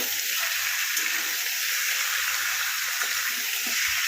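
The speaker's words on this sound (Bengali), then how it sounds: "এরকমভাবে ভেজে নেব।" Chicken fries in a pan with a steady, bright sizzling hiss that stays even throughout, close and continuous with no talking.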